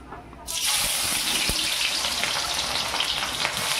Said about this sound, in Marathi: हा कांदा कापलाय मी उभा. हे आपल्याला बिर्याणी भाताच्या वरती टाकायचं आहे. त्याला तळून घ्यायचं आहे एकदम कडक